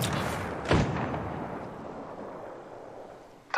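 Gunfire in the battle-royale shooter Apex Legends: one loud, sharp report near the start, then a noisy, rumbling game soundscape that slowly fades.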